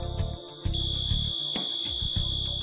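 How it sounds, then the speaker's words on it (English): A fire suppression system sounds its second alarm ahead of an FM200 clean-agent discharge, a loud continuous electronic alarm tone with pulsing beeps that steps up in intensity partway through and holds steady. "The system sounds a second alarm and begins a 30-second"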